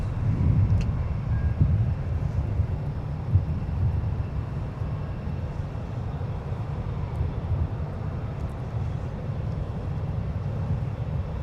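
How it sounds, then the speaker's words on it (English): A United Airlines Airbus A319 on arrival to land at Minneapolis–St. Paul airport, inbound from Chicago, gives a steady low rumbling engine roar that holds at a constant level throughout, with no voices. "That arrival is inbound from Chicago, United 2298 with an A319."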